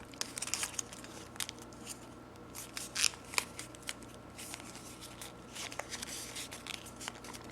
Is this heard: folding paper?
yes